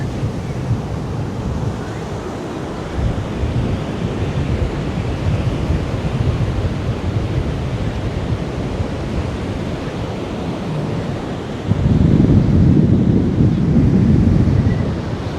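Sea waves roll in at Utorda Beach in Goa on a windy day, a constant broad surf roar mixed with heavy wind buffeting the microphone, growing louder in a strong gust toward the end.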